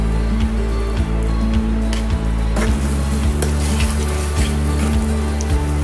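A tablespoon of water is poured into a pan of prawn sauce for restaurant-style dragon prawns, a soft trickle and sizzle over a steady low kitchen hum.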